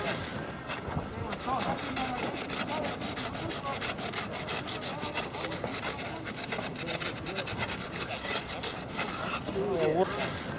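Hand tools saw and scrape at a snow sculpture at a national snow sculpting competition outdoors, with continuous rasping and rubbing strokes mixed with wind noise and faint voices.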